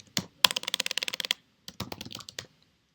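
Quick bursts of key clicks on a computer keyboard, a rapid run of close, crisp taps, a brief pause, then a shorter second flurry before stopping; no speech.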